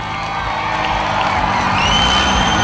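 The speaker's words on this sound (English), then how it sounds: "One last time, let's give Chase Rife and his Maxi Mini Monster Truck a round of applause." Crowd at a county fair monster truck show cheering, whooping and clapping for a 10-year-old driver's Maxi Mini Monster Truck, a dense, steady wall of noise that swells slightly toward the end.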